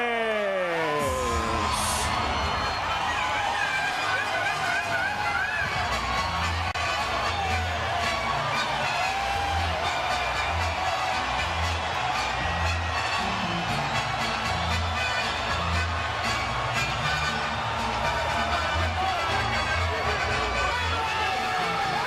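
A crowd cheers in a boxing arena, loud and sustained with whoops and roars, while music and a commentator's voice run over it throughout.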